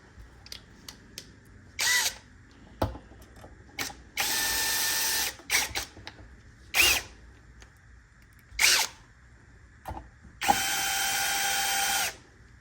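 Power drill driving a screw during assembly of an Xbox Series S console, several sustained whirring bursts alternating with short clicks and ratcheting taps, close and alone with no talk.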